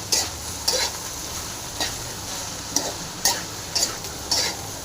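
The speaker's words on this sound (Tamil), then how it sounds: "வெண்டைக்காய் போட்டாச்சுங்க க்ளீனாக கொஞ்சம் நல்லா ஃப்ரை ஆகட்டும்" Okra (lady's finger) sizzles in a pan over a steady background frying hiss, broken by sharp, regular stirring scrapes and clicks of a utensil against the pan about once a second.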